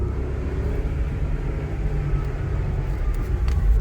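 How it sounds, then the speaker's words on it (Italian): A steady low engine rumble heard from inside the cabin of a Maserati sports car, continuous and fairly loud, with road noise underneath and no voices. "Lo sentite nel motore che ora invade molto più fortemente l'abitacolo"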